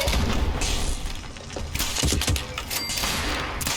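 Dense gunfire from a Fallout 76 firefight, a busy barrage of shots and thuds that runs loud and steady through the moment with sharper bursts near the midpoint.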